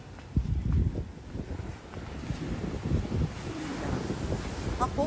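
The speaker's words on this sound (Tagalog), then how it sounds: "Yan yung dagat." Steady low rumble of sea waves washing in at night on White Beach, Puerto Galera, mixed with wind buffeting the microphone, with a few faint distant sounds near the end.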